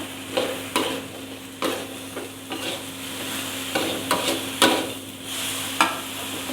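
Squid stir-fries with gendot chilies in a hot pan, a close sizzle punctuated by loud irregular scrapes and clanks of a spatula tossing the mixture.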